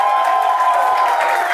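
A studio audience on a talk show bursts into sustained applause and cheering, a dense crowd roar with whoops that holds steady throughout.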